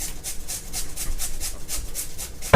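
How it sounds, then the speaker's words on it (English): Carrots are rubbed against a grater in about ten even, rhythmic strokes, each a close, rasping scrape with a steady back-and-forth pace. "So, I'll start grating for her."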